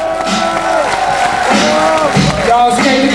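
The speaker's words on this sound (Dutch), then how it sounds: "Doe maar lekker klappen!" An audience at a rap show cheers and whoops loudly over a rapper's voice and a backing beat, a brief swell of crowd noise.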